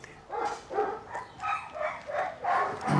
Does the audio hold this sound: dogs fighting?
yes